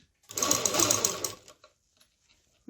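A sewing machine stitches elastic into fabric in one short, close burst of rapid whirring, about a second long, then stops into near silence with a few small clicks.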